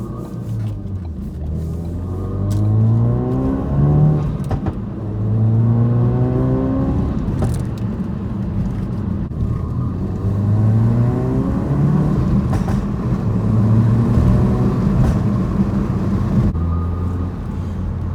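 A tuned turbocharged Ford Focus RS engine revs loud and close in third gear from about 2,500 RPM, its pitch climbing in long sweeping pulls that repeat as the motor winds up under acceleration.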